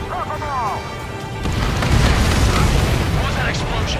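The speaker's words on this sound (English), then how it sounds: "What was that explosion?" Explosion in the combat flight game Ace Combat 7, a loud boom that hits partway through and rumbles on under radio chatter and game sounds.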